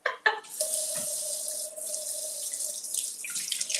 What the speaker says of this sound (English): Let's wash our hands.